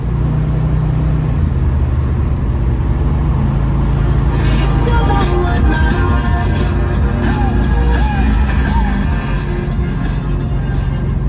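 A 1972 Chevrolet Nova with a big block engine revs loudly and continuously up close, the roar swelling higher midway through with a rough, throaty rumble throughout.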